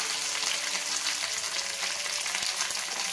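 Chicken with coriander and mint fries on a hot tawa, giving a steady, close, crackling sizzle that continues evenly with no talking.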